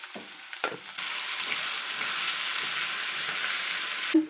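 Potatoes frying in a pan start with a few clattering drops and scrapes, then settle into a steady, close sizzle that runs unbroken before a final knock.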